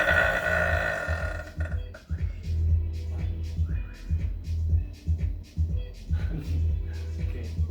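Repeated burps, a long drawn-out belch at the start followed by several shorter guttural burps in an uneven rhythm, close and fairly loud.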